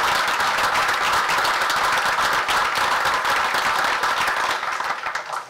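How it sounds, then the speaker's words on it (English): Sustained applause from an audience at a township council meeting, dense steady clapping that holds loud for about five seconds before starting to thin out near the end. "I want to give a round of applause to Chaplain Casey and Chaplain Wenger"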